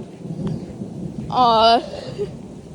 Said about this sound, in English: why does it have to just keep raining?